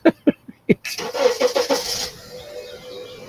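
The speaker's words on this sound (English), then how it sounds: "Just another car starting up." A car engine cranks and starts, a short burst of starter whine settling into a low idle, preceded by a few sharp knocks, heard alone and fairly close.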